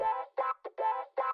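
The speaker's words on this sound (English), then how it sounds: "and then I did the wah guitars that sound like this." A wah guitar part from the outro of a song, heard as five close, rhythmic vowel-like sweeping notes in quick succession, clear and alone.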